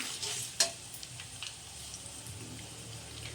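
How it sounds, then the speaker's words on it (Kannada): Curry leaves dropped into a hot pan give a sharp crackling burst, then a soft, steady sizzle with a few faint ticks and stirring scrapes, close by and with no voices. "ಈಗ ಕರಿಬೇವಿನ ಸೊಪ್ಪು ಹಾಕ್ಕೊಂಡಿದ್ದೀನಿ ನಾನು"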